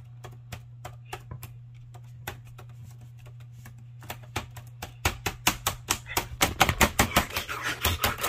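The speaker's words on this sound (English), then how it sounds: "Okay, let me type in the code." Code being typed on a keyboard, a run of sharp clacking keystrokes that starts sparse and grows faster and louder toward the end, over a low steady hum.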